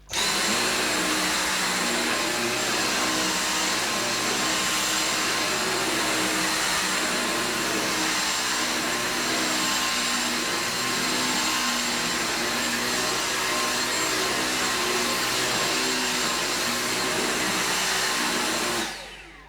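A vacuum cleaner whirs loudly and steadily up close for almost twenty seconds, sucking up shed needles from an artificial Christmas tree, before shutting off at the end.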